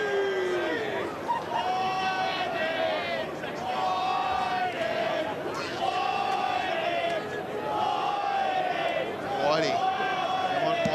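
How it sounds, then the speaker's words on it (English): Hutchins supporters jeer with Bronx cheers at the 2022 OSFA Seniors football grand final, a sustained crowd roar of rising and falling jeers, with a voice talking over it. "Bronx cheers from the Hutchins crowd."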